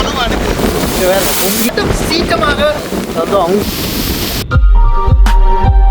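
Storm waves from Cyclone Ditwah surge and crash on the coast at Jaffna. The roar is continuous and dense, heavy wind buffets the microphone, and someone talks over it before a sudden thud.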